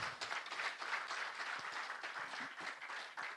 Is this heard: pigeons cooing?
no